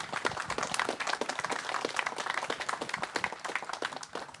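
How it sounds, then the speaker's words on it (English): Guests at a scholarship program welcome dinner clap for those on stage, a scattered but lively burst of individual hand claps that gradually thins and fades toward the end. "give them a round of applause"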